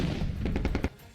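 A rapid burst of about half a dozen gunshots rattles out in quick succession during Russian army combat training, sharp cracks over a rumbling background before stopping.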